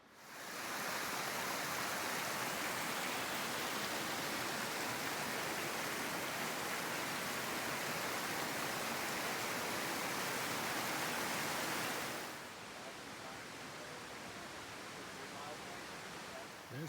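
The glacier-fed Hoh River in Olympic National Park roars with a dense, steady wash of flowing water that drops suddenly to a softer, more distant rush near the end.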